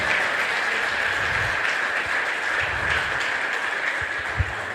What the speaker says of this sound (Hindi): मैं चाहता हूं पुरानी एसोसिएट से अब तक की सबसे जोरदार तालियों से स्वागत करते हैं हम नए बहन भाइयों का।